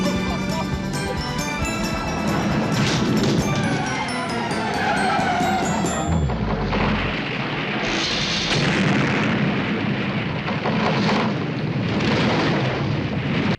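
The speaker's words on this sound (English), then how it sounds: "Why did that thing explode?" A roller coaster structure collapsing and exploding in the 1980 action comedy film Smokey and the Bandit II, with a loud continuous roar of blasts, crashing debris and car noise, a heavy boom near the middle, over music.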